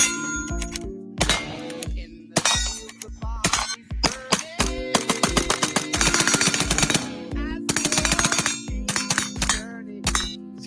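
A suppressed rifle with a binary trigger fires subsonic rounds in rapid bursts and quick doubled shots, sharp clanking reports repeating loudly and irregularly across the span with short pauses between strings.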